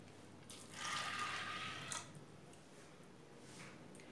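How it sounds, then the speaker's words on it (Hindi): Water is poured into green whole moong dal in a pressure cooker, a soft, brief splashing pour lasting about a second that then fades to quiet; faint and close, with no speech. "और इसमें ये पानी डाल देंगे।"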